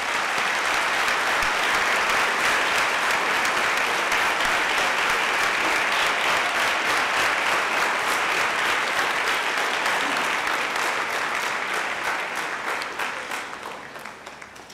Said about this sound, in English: Please give a warm thank you of applause to our ninth grade classmates.